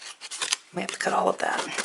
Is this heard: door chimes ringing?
no